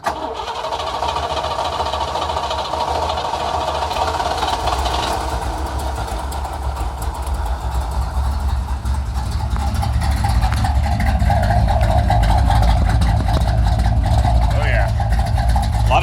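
A classic car with an M20 wide-ratio gearbox cranks and fires, its engine running steadily and growing louder toward the end, with someone talking over it.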